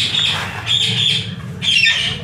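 A breeding pair of birds in an aviary breeding setup gives three harsh, raspy squawks in close succession, loud and near, with a low background hum and no talking.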